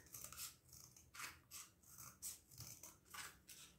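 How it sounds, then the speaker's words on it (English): Scissors snip through paper as flower petals are cut out for a kids' spring craft, a quiet close series of about eight crisp cuts in an uneven rhythm, with soft rustling between them. "Take our scissors. And we cut all around."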